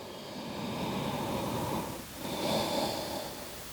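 A long, deep breath during a beginner yoga stretch: a slow, close, airy inhale-exhale that dips briefly at the midpoint before a second breathy swell.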